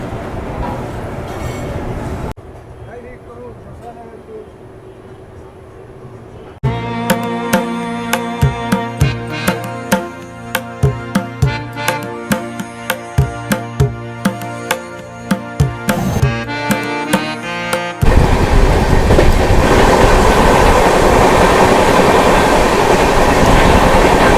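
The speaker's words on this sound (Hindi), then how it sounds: "तो फिलहाल 5 मिनट भी ट्रेन नहीं रुकी थी, वो डिपार्ट कर रही है गया जंक्शन रेलवे स्टेशन से।" The Anand Vihar–Haldia SF Express pulls out of Gaya Junction station, loud and close, with a steady rumble and a run of rhythmic clickety-clack wheel beats that speed up before giving way to a dense, roaring rush of passing carriages.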